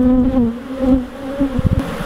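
Dense, agitated buzzing of many honeybees close by, a steady drone with sharper surges near the end.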